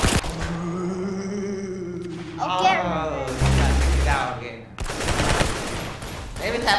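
Musket shots in the Roblox Arsenal game, several sharp loud gunfire bursts in the latter half, separated by short pauses, following a stretch of game sounds and voices at the start.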